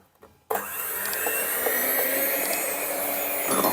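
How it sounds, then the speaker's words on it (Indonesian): An electric mixer starts abruptly after a brief quiet moment and keeps running as a steady, loud motor whir while it beats batter for lumpia wrappers, with no voices over it. "Ini pasang mixer dulu ini ya. iya langsung mixer."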